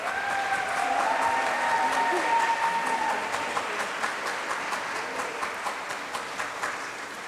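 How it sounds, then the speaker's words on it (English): A concert audience at a school spring concert claps for the children, dense applause with a few shouted cheers early on, thinning into fewer, more distinct claps toward the end. "How about another round of applause for these wonderful,"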